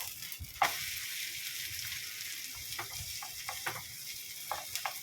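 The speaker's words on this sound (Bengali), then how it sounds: "এবার এদিকটা ভালো করে ভেজে নেব।" An oats omelette fries in a pan with a steady, fairly quiet sizzle, broken by a few brief scraping clicks as it is turned and pressed with a spatula.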